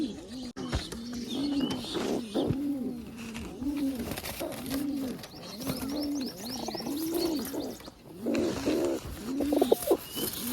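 Pigeons coo in repeated soft, throaty rolling phrases close by, a steady rhythm of low calls with occasional faint chirps and rustles in the background.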